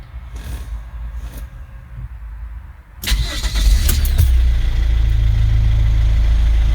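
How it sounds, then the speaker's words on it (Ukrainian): A car engine is heard first in a quiet, low state, then cranks and fires up loudly and settles into a steady, close idle. "Пробуємо її глушимо, знову заводимо."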